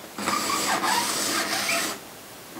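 A hand-cranked apple peeler, corer and slicer turns an apple against its blade, giving a steady close scraping, whirring grind for about two seconds before stopping, with no talking.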